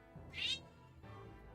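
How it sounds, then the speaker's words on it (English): A house cat meows twice nearby, a bright drawn-out mew followed by a softer, lower second call, over a quiet room background. "My cat."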